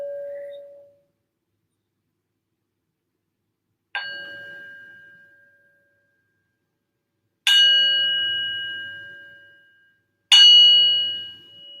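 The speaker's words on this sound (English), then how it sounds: "I'm going to ring the bell to invite us into our practice this evening." A meditation bell rung to open an evening yin yoga practice, four clear metallic strikes each ringing out and slowly decaying, with long silent gaps between them.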